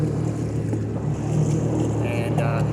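A jet ski engine drones steadily on choppy lake water off Sturgeon Point, a constant low rumble with wind and water noise and no voices.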